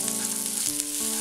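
Thin rounds of sliced green chilli with finely chopped ginger sauté in hot oil, giving a steady close hiss and crackle with some pan hum underneath, brief and continuous, with no voices.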